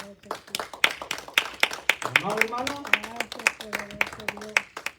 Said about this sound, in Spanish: yo le invito a que le dé un aplauso